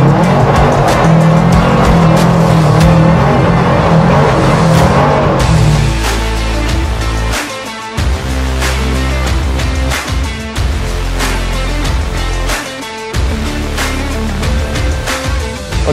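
A car drifting with countersteer on a test track at a General Tire AltiMAX 365 AW launch event: loud sustained tire squeal and engine roar, close and continuous, with shifting pitch as the car slides.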